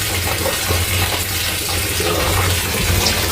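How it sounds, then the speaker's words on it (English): Very hot water runs steadily into a salted bathtub, a continuous close rushing and splashing stream with no speech. "salt in the bathtub, and I gotta put very hot water"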